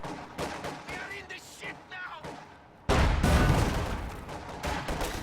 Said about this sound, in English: Guards leave the building and fire on the flamethrower from the position behind this cart.